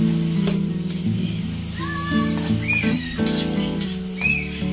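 Tomatoes sizzle and fry in a pan while Filipino food cooks, a steady crackling hiss running throughout under music with a recurring melody, and no one speaks.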